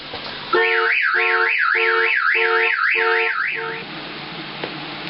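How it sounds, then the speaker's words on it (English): A loud Chevrolet S10 pickup security alarm, set off by a voltage change, blares a rapidly warbling siren over a steady pulsing tone, cycling in quick repeated bursts for several seconds before cutting off. "It must have registered the voltage change, and the alarm went off."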